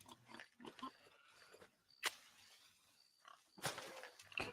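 Pigs oinking and grunting in a video game farm area, several short snorts scattered across the moment with a louder squeal near the middle and a burst of grunting toward the end, moderately near.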